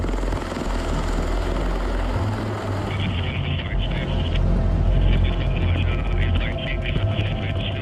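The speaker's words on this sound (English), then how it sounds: "Here, we board an MV-22 Osprey, which looks like a giant transformer." Steady heavy rotor and engine roar of an MV-22 Osprey tiltrotor aircraft in flight, loud and close, with a deep low drone and a brighter whine joining partway through.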